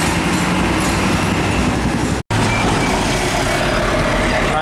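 A Hino 500 SG 260 TH isotank trailer truck rumbles loudly and steadily close by, with heavy broadband road and engine noise cut by a brief dropout midway.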